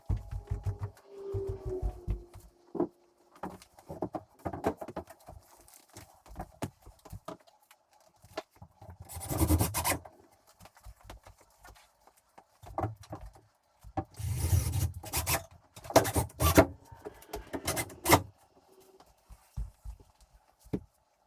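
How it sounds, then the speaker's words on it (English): Hardie backer board is screwed onto a fireplace bracket with a power driver, heard as bursts of whirring, some of them long, mixed with knocks and scrapes of board against the frame, separated by quiet gaps. "we are going to mount that up there and screw it in"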